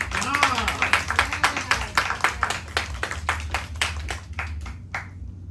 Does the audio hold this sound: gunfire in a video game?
no